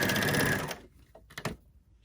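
An overlocker sewing machine runs in a fast continuous whir while stitching a chain, then stops, followed by a few light mechanical clicks close by.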